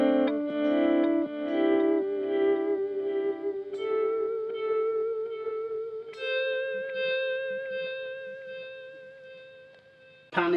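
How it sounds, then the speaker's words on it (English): Guitar notes played through the slow echo setting of a BOSS ME-50 multi-effects unit swell in softly and sustain with a long ringing tail, a few chords layered over a held tone, ending with a sharp new attack. "Slow echo, which is like a volume swell."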